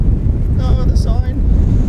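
Strong wind buffets a microphone across open airshow grounds ahead of a tornado warning, a steady low roar throughout with brief voices in the middle.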